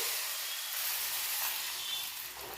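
Steady hot sizzle with a bright, hissing spatter as hot spiced oil tempering is poured into dal dhokli in a pot, continuous and fairly close for a couple of seconds.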